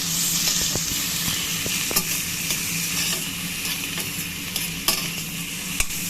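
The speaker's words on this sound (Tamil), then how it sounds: "இதில் வந்து அடுத்து ஆனியன் போட்டிருக்கேன், அப்புறம் கேஷ்யூ நட் போட்டிருக்கேன்." Onion and cashew nuts fry in oil for paneer biryani, giving a steady, close sizzle broken by repeated spoon scrapes and sharp clicks against the pan.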